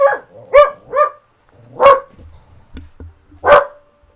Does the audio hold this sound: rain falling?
no